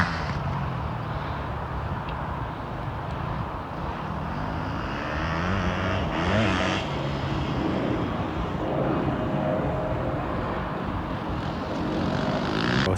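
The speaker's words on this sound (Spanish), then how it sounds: "Ahí están también con las motos de enduro" Steady engine drone of enduro motorcycles riding off-road at a motocross circuit in Málaga, a continuous rumbling roar that swells slightly midway, fairly close, with no voices.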